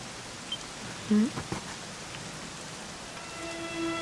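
Steady rain falls throughout a scene in the video game Dragon Quest XI S, a soft, even wash of drops with a few brief louder bumps and faint tonal game sounds near the end.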